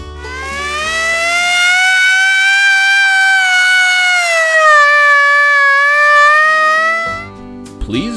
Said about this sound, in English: Our warning siren is easy to use and folds away to a convenient size.